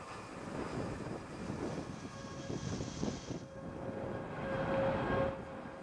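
Vulcan rocket engines thrusting during a launch, heard as a continuous low, broad roar with crackling rumble that swells and eases slightly, steady and distant-sounding with no talk over it.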